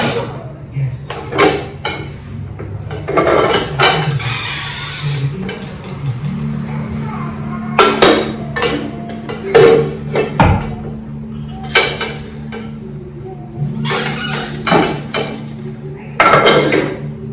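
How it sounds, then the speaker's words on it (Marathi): Large square pieces of onion being chopped on a board in a home kitchen, a run of sharp, close knife taps in quick bursts, mixed with pot and utensil clatter, with some talk in between. "आता मस्त कांदा ना थोडा मोठा मोठा चौकोनी आकाराने चिरून घेणार"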